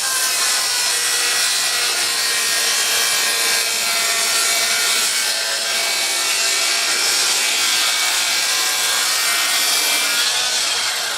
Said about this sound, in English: Cut down the two outer boards and put this bit of timber on there